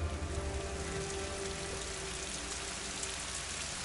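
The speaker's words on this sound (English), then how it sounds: "Getting soaked in the rain." Rainfall in the video game Rise of the Tomb Raider pours steadily as a dense, even hiss of drops with a low ambient hum beneath, constant and moderately loud with no voices.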